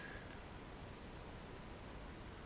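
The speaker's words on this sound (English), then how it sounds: "we're using a white noise signal to excite all frequencies" Steady broadband white-noise hiss used to excite a device under laser vibration measurement, faint and even throughout with no change in level and no voices.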